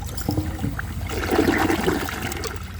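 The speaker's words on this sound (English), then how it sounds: "let's give this a flush and see how it does on tests" A 2018 American Standard Townsend Vormax toilet flushes, a close rushing surge of water that swells into a loud churning swirl, alone without talk.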